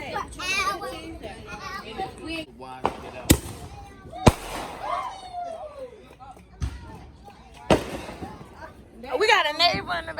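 Fireworks set off in a neighbor's backyard, several sharp loud bangs and crackles scattered among lively children's chatter and shouting close by, with voices running throughout.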